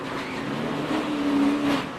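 A NASCAR stock car's engine drones loudly from an onboard camera during a race, holding a steady high revving pitch that swells slightly before easing.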